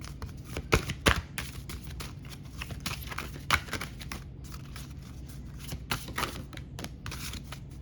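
Cards being shuffled close by, with a series of crisp riffling bursts and soft snaps at an irregular pace, quiet overall.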